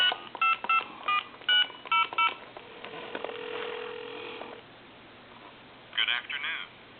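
A touch-tone telephone dials a time-and-temperature line: a quick string of DTMF beeps, a steady tone, then a few more beeps, clear and close with no speech over them.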